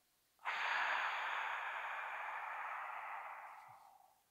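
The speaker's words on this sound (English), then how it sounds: "I'm going to breathe in. I'm going to hold, and then exhale." A single long, deep breath during a relaxation breathing exercise: a sudden breathy rush of air that holds steady close to the microphone for several seconds, then slowly tapers off, with no talking.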